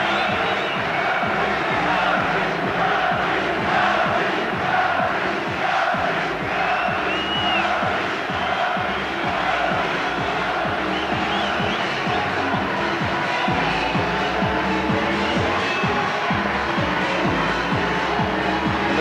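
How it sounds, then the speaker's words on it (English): A large boxing arena crowd at a Naseem Hamed versus Jose Badillo fight roars continuously, a dense wall of cheering and shouts with whoops rising through it, loud and unbroken throughout. "The crowd here are certainly enjoying every moment of this."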